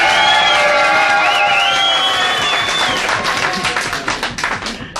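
A crowd applauds loudly, dense clapping with whoops and cheers over a lingering tone, the clapping thinning into separate claps toward the end.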